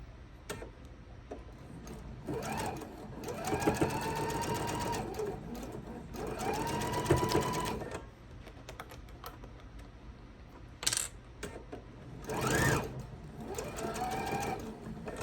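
A sewing machine stitches a scant quarter-inch seam joining pieces of an Old Maid's Puzzle quilt block, heard in several short close bursts separated by quiet gaps and small handling clicks.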